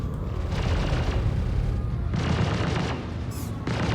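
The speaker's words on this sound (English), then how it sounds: "these turrets just automatically start shooting you if you go close to it" Automated turrets in the space game Star Citizen firing in bursts of rapid, dense gunfire, with a pause before the shooting resumes, loud and close.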